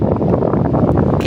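Steady wind buffeting a microphone outdoors in Busan, South Korea, a low rumbling roar that is loud and continuous, with no voices.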